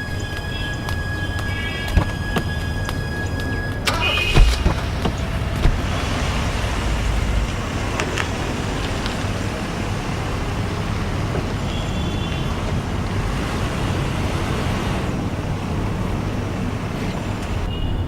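A car drives along with a steady, loud rumbling road and engine noise that lasts throughout, with a few faint clicks and knocks near the start and no voices.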